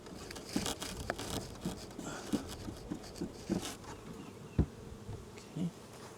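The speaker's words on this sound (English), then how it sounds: "I'm going to get my bee brush and sweep those bees out." Honey bees buzz steadily at close range while being brushed into a top bar hive during package installation, with scattered soft taps and rustles throughout and no talking.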